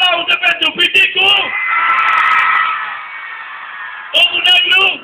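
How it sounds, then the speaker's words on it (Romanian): Audience applause and cheering for comedian Piticu, a loud crowd roar with whoops swelling and fading between bursts of an announcer's voice at the start and end. "În această seară, aplauze pentru Piticu!"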